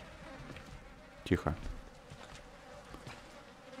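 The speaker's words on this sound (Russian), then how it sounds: "Мухи, смотрите, летают, господи." Flies buzz faintly in a grim Outlast game scene, a short swell of droning buzz rising briefly over a quiet ambient bed while a man mutters a word.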